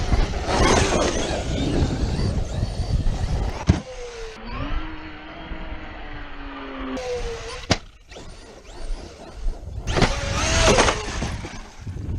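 A Traxxas XRT 8S RC monster truck drives close by, its electric motor rising and falling in whining pitch sweeps amid gritty rolling and crunching noise, with sharp knocks and bursts of acceleration.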